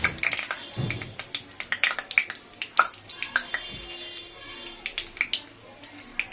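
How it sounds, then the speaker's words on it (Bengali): Nigella seeds crackling and popping in hot oil in a pan, a close run of sharp irregular sizzling pops. "দিয়েছি দেখো কালো জিরে। কালো জিরেটা হোক একটু।"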